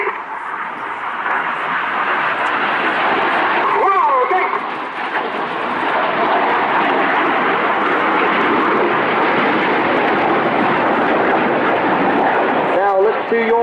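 Red Arrows jets roar low past the crowd at the Bournemouth Air Festival, a loud continuous broadband engine rush filling the whole stretch with swelling passes, while a commentator's voice talks over it.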